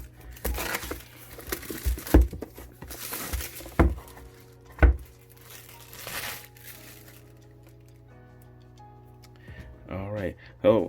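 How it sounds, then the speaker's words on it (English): Apple iPad Pro 11-inch 2nd-generation packaging crinkles and rustles as its pull tab is torn, with sharp clicks and ticks between softer scraping bursts at close range. "Have the pull tab here for easy unboxing."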